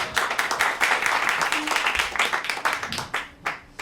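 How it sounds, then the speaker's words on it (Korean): Applause from an audience at a labour party candidates' talk concert, following a musician's performance, a dense steady patter of many hands that holds throughout, with a brief voice or tone faintly beneath. "다시 한번 감사의 박수를 부탁드리겠습니다"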